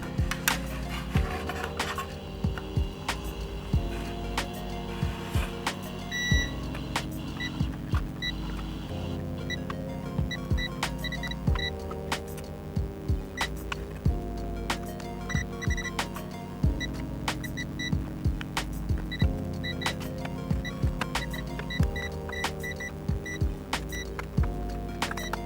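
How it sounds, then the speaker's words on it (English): A multimeter gives short continuity beeps while probing connections on the circuit board of a faulty 1980s Gakken Frogger handheld game. The beeps repeat irregularly over constant clicking and handling noise. "that'll make a noise every time I get connectivity"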